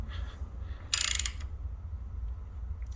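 The engine of a 1983 Suzuki GS1100E being turned by hand: a brief quick ratcheting burst of clicks about half a second long, close by over a low steady hum.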